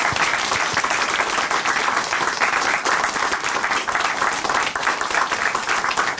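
A church congregation at a Christian testimony broadcast gives a loud, dense round of applause, a continuous wash of many hands clapping at once with no pauses.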